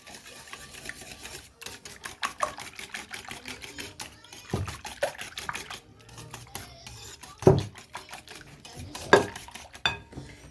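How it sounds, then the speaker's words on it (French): Brioche dough being mixed in a bowl, with irregular clicking and knocking strokes against the bowl, some louder thumps scattered through, no talking. "Je mélange."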